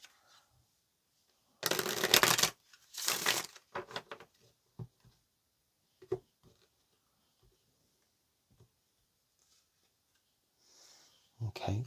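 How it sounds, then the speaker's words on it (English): A deck of tarot cards is shuffled in two quick rustling bursts up close, followed by light handling sounds and soft talking. "One more shuffle."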